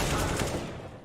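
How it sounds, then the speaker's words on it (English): A single sharp gunshot burst in a Counter-Strike pro match between Virtus pro and Evil Geniuses at ESL Pro League, loud and quickly decaying over about a second. "Shot doesn't connect."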